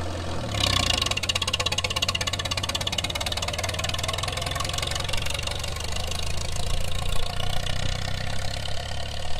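A wartime H tractor engine starts up, then runs with a steady, heavy knocking rumble throughout its first drive, loud and close, with no voices over it.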